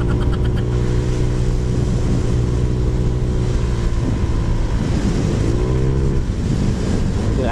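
A Honda Click 125/150 scooter engine fitted with a Z5 camshaft runs steadily and loudly throughout, its droning pitch rising and falling slightly as the throttle is blipped.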